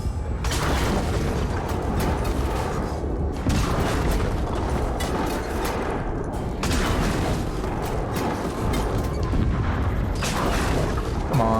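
Heavy siege weapon shots hit a siege beast in the Shadow of War video game, booming repeatedly with mechanical creaks and rumbling impacts that run close and loud over several seconds.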